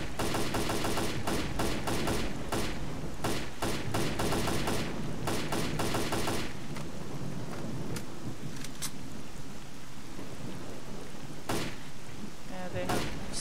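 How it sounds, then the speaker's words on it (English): Rapid bursts of game gunfire in Pripyat crackle in dense volleys, then thin out into sporadic single shots over a steady background rumble. "There's warm gunfire here."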